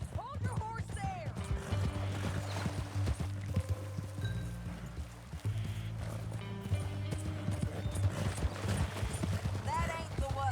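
In Red Dead Redemption 2, horse hooves clip-clop in a steady, moderately close rhythm, with occasional snorts and game voices talking over them.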